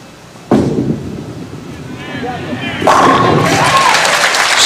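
A bowling ball crashes into the pins for a strike during a 1985 professional bowling tournament, a sharp thud followed by a loud clattering burst and crowd noise that swells afterward.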